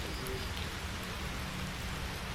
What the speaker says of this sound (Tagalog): Lumakas talagang ulan.